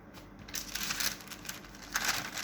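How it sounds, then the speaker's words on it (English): A layer of paper napkin is gently rubbed down onto a surface for a decoupage snowflake, giving soft, continuous crinkling and brushing, quiet and close, with slight swells and no talking. "Now you lay it over and gently rub down."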